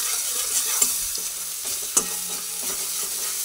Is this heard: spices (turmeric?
yes